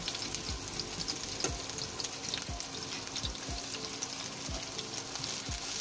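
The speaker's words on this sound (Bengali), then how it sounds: "এখন এর মধ্যে তেল দিয়ে পেঁয়াজ কাটা দিয়ে দিলাম।" Chopped onion hits hot oil in a pan and fries with a steady, close sizzle and crackle, broken by occasional sharp pops and spits throughout, with no talking.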